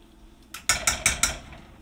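A spoon stirs dollops of sour cream into beef stroganoff with mushrooms in a pot, striking the side in four quick, close, evenly spaced clinks with no talking.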